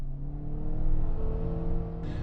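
A 2015 Volkswagen Jetta TDI diesel drives along with a steady, mid-low engine drone and road noise heard from inside the car, rising slightly in the middle and no voices over it.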